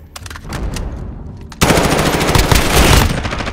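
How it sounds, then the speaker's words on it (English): Rapid automatic gunfire from Call of Duty: Modern Warfare comes as loud, dense bursts, thinning briefly before a sustained, heavy stream of shots. "I'm taking fire."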